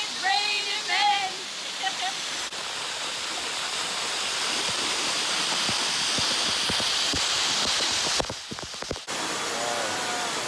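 The Montha Than waterfall near Chiang Mai, Thailand rushes with a loud, steady broadband roar that fills the scene throughout. A few voices and whoops come through briefly over the top.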